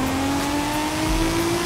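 Racing video game cars, including a Mark IV Supra and an RX-7, accelerate away with a loud, sustained rising engine whine, no talking heard.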